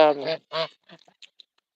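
Two or three loud, nasal honks from pet geese nearby, followed by a few softer, scattered calls.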